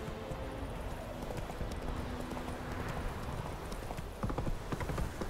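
Hoofbeats of Roach, Geralt's horse in The Witcher 3, galloping in a steady clip-clop rhythm over a busy game soundscape, with a brief louder stretch near the end.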